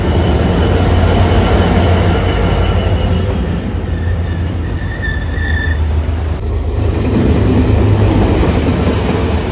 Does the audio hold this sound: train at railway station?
yes